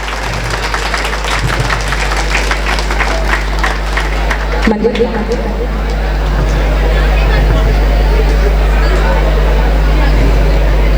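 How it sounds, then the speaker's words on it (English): A crowd claps steadily for several seconds at a college freshmen social, a dense patter over a loud low hum, then the applause thins into murmuring room noise. "Your clapping should go on actually."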